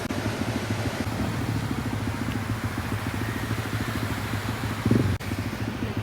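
A cafe racer motorbike idles close by with a steady, even engine putter at low level, broken by a short louder burst near the end.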